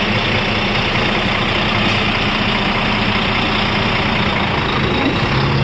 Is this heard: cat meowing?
no